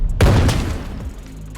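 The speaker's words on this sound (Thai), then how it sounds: "โอ้ระเบิด" A single loud explosion booms in the shooter game Arena Breakout, a sharp close blast followed by a rumbling decay over about a second.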